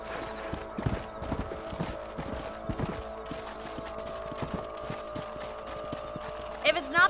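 Horse hooves clip-clop in an uneven, steady walk over a low hum in the game Red Dead Redemption, with a louder clatter near the end.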